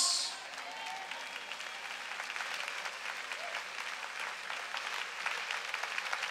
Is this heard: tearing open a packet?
no